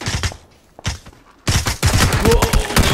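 Close, loud shotgun blasts in PUBG, two isolated shots followed by a dense stretch of rapid gunfire, sharp and punchy with little pause between reports.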